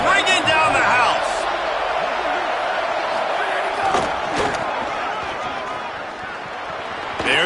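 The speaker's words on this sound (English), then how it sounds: "this crowd is bringing down the house" A stadium crowd roars during a Penn State football game, a dense, loud wall of cheering with bursts of shouts and impacts, while a commentator speaks over it.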